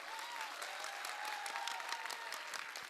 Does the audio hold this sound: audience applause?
yes